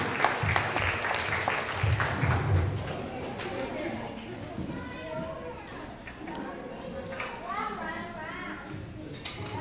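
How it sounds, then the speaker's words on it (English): Wedding guests applaud after a speech, with a dense wash of clapping that fades slowly while chatter and voices rise beneath it. "We'll give him applause."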